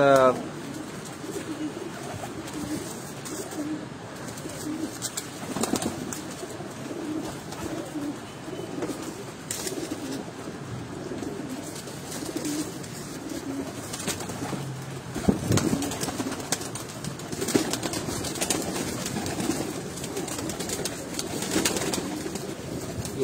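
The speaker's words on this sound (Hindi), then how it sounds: "ये सारे के सारी ये जो स्क्वाड है ये परवाजी कबूतरों की है" Soft cooing from a flock of high-flying racing pigeons carries on steadily throughout, with a low murmuring texture and occasional wing flutters, while people talk in the background.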